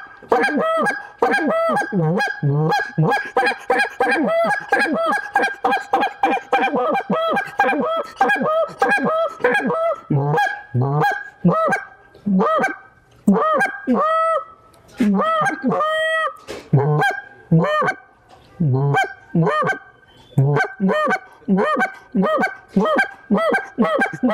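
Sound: Lynch Mob goose call being blown

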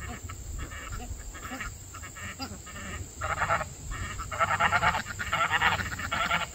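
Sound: duck quacking

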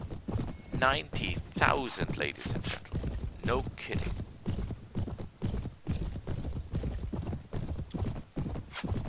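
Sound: horse hooves clip-clopping in video game Mount & Blade

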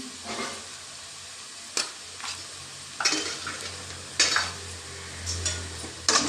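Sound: frying egg masala with cumin and pepper powder in pan

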